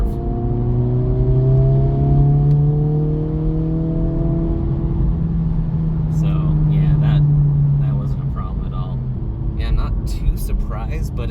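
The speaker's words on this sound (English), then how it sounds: "So total control there around a curve, accelerating around a curve." A 2024 Acura Integra Type S accelerates hard around a wet curve, its engine note a steady loud drone that climbs in pitch, later joined by road and tyre noise and brief clatter.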